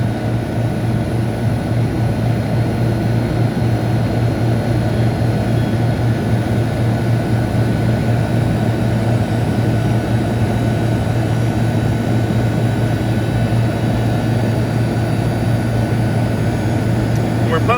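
Refrigeration system compressor pumping down, a loud continuous mechanical drone with a steady hum running unbroken throughout, no pauses.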